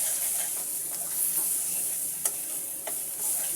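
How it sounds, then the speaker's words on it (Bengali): Turmeric and chili masala fries in oil in a pan while a spoon stirs it briskly. A continuous hot sizzle carries scattered sharp clicks and scrapes against the metal. "এবার মশলাটাকে আমি কষিয়ে নেব।"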